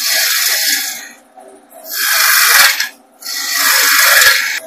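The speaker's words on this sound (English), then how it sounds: "I'm going to start by using my bowl gouge, my half inch bowl gouge, just to remove some of the waste down here at the tailstock end." A half inch bowl gouge cuts waste wood at the tailstock end of a piece on a lathe, giving three loud, hissing, scraping passes with short quieter gaps between them.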